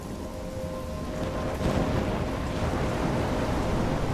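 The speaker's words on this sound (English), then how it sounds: "I'm trapped in a storm?" Heavy rain pours steadily in a thunderstorm in the video game Life Is Strange, with a rolling thunder rumble partway through over a constant dense wash of rainfall.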